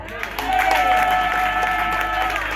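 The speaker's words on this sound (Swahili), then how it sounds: "hebu mpe Yesu makofi mengi" A church congregation applauds, a dense sustained wash of clapping from many hands that holds steady for a couple of seconds, loud and filling the room, with some voices mixed in.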